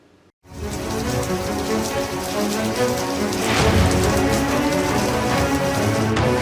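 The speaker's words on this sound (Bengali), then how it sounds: "তারপরেই নামলো ঝমঝমিয়ে বৃষ্টির সঙ্গে ঝোড়ো হাওয়া।" Heavy rain pours down in Kolkata with stormy wind. After a brief quiet start it becomes a dense, loud, steady roar of drops with gusty swells and no voices.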